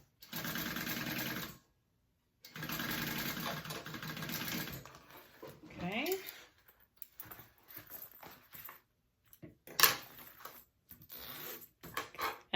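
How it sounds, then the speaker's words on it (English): A sewing machine bastes a zipper panel for a handbag, running in two quiet, steady bursts of rapid stitching, followed by softer handling and fabric rustles with a short, faint voice. "I'm just basting this so it stays in place"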